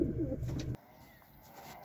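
Young pigeons cooing close by, a short soft burst of low coos that stops abruptly, leaving quiet background.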